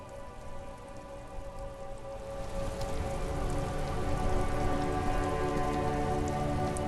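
Rain falls steadily in the video game Disco Elysium, a dense hissing patter of drops on surfaces that swells slightly louder partway through and continues evenly without any voices.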